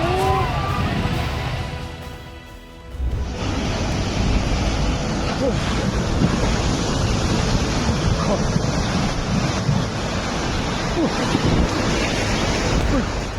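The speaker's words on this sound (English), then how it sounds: "A raging flood tears through" Water from the Qiantang River's tidal surge churns with a loud, continuous roar, heavy with wind buffeting the microphone and a brief dip before the rush swells again.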